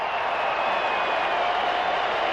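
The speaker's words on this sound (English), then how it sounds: "Listen to this crowd." A packed football stadium crowd at Pitt Stadium roars in a steady, dense wash of cheering during the 1999 final game against Notre Dame, with no break or quiet moment.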